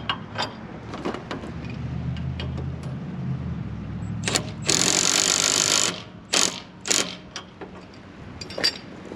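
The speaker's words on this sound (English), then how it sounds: "Now let's tighten her back down." A Milwaukee M12 impact driver tightening a fastener back down: a low mechanical whir first, then a loud buzzing hammer burst, followed by a few shorter impact bursts and clicks, close up with no talking.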